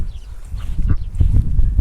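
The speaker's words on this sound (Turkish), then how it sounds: "Şöyle ördeklerimiz var." Ducks on a farm with horses, sheep, dogs and chickens, a close cluster of low quacking and honking calls in quick irregular bursts over a couple of seconds.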